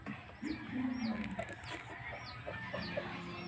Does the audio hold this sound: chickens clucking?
yes